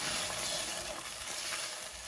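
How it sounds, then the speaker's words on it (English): A pan of British Indian restaurant-style chicken korma sizzles steadily while being stirred, a close, continuous frying hiss with soft scraping from the stir and no voices. "Give that a bit of a stir."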